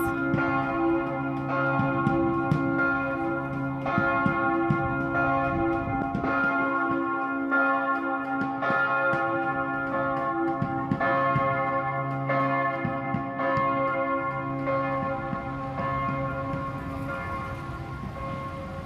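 Church bells ring at midday in Budapest, a long, resonant peal of repeated strikes with overlapping ringing tones that sustain steadily at moderate distance.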